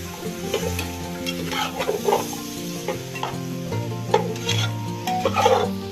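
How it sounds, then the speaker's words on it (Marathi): Mixed vegetables sauté in masala while being stirred, a steady low sizzle under frequent scraping and clinking strokes of a spoon against the pan, close and unhurried, with no speech. "सगळ्या भाज्या चांगल्या ह्या मसाल्यामध्ये परतून घ्यायच्या आपल्याला."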